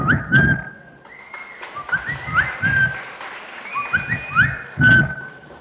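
On a school arts festival stage in Kollam, a mimic whistles a phone's message alert: short, clear tonal blips and rising slides repeated several times, each with soft breathy puffs, fairly close and loud.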